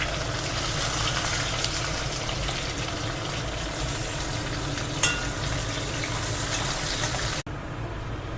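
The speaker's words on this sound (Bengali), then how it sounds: "তো তেল গরম করে ফার্স্টে আমি এখানে একটু গাজর, তারপরে ক্যাপসিকামগুলো একটু ভেজে নেব।" Carrots and capsicum frying in hot oil make a loud, dense, steady hiss that carries on without a break. It cuts abruptly near the end and then continues more faintly.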